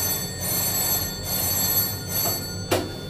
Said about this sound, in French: Ici, on a l'alarme par téléphone.